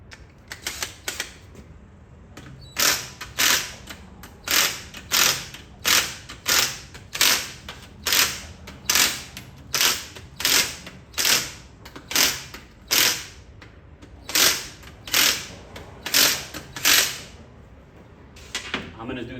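A torque wrench clicks and ratchets in a steady repeating rhythm while tightening bolts on a 2010 Chevrolet Traverse 3.6L engine, with close, sharp mechanical strokes at moderate volume.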